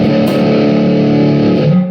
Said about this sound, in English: let's hear the kind of metal tones on the single coil